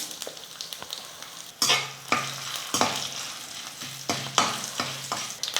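Chana dal, urad dal, cashews, dried red chillies and asafoetida frying in oil in a pan, a close steady sizzle with repeated scraping stirs of a spoon.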